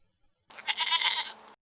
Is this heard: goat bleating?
yes